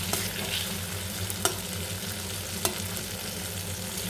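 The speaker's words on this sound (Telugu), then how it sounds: "ఇలా సాఫ్ట్గా అయ్యేంత వరకు మనం ఫ్రై చేసుకుంటే చాలు" Tamarind for a coriander stem chutney fries in a pan with a steady, dense sizzle, punctuated by two sharp clicks of a utensil against the pan, close and continuous without talk.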